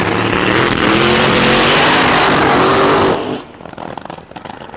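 Top gas drag racing cars at Orange County raceway roar loudly and steadily for about three seconds, then the noise cuts away abruptly, leaving quieter crackling and fading engine sounds.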